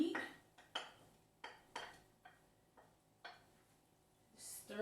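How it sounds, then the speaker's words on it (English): Vegetables and steak strips stirred in a pan with a utensil, giving about eight separate clinks and scrapes against the metal, close by and at an uneven pace. "Stir those up."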